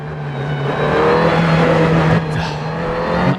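Super GT 500 race car engine in Assetto Corsa, a loud sustained in-car engine drone with shifting revs, a quick gear change and a tone dip near the middle, then climbing again.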